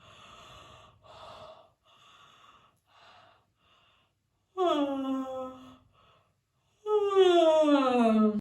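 A person yawns aloud during an articulation warm-up for clear diction: soft breathy sounds come first, then two long, loud voiced yawns whose pitch slides downward, each lasting over a second.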